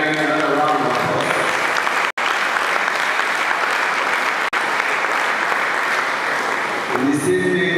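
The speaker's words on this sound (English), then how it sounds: "another round of applause" A large audience applauds loudly and steadily at a university chemical and petroleum engineering department's 50th anniversary event, with dense, sustained clapping filling the hall before briefly thinning at the end.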